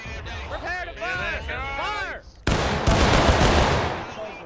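Musket volley in the Civil War battle game War of Rights: after shouted commands, a loud massed crack of rifles erupts and rolls on with scattered follow-up shots and echo, with voices of soldiers nearby.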